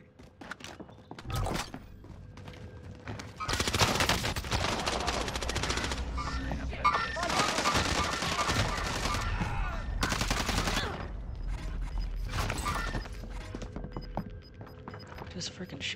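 Automatic gunfire from a Vanguard PPSh in Call of Duty Warzone on Rebirth Island comes in several long, rattling bursts separated by short pauses, mixed with thumps, footsteps and players talking.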